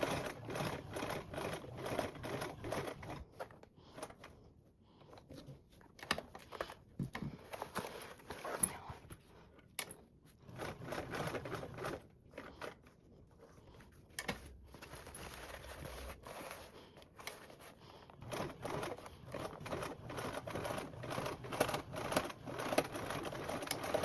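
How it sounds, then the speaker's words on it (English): A sewing machine runs in intermittent bursts of fast rhythmic chatter while sewing a straight seam on a tote bag, with quiet gaps and handling clicks between runs. "So then I can put my pressure foot back down and just sew straight."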